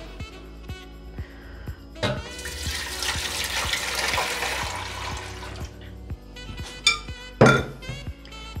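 Cooled liquid gelatin is poured from a container into a mold for a chilled cake, a gurgling splash lasting a few seconds, followed by light clinks and knocks of the dish.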